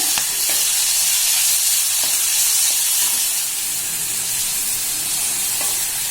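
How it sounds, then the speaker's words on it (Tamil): Red capsicum and peanuts sauté in a pan, giving a loud, steady, close sizzle that holds for the whole stretch, with a few faint stirring knocks and no voices. "இதெல்லாம் சேர்த்துட்டு ஒரு 3 நிமிஷம் 4 நிமிஷம் வதக்கிக்கலாம்."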